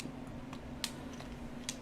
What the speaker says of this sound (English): There's a few of those loud clicky clacky ones. Those are like an analog, mechanical is what they're called, keyboards.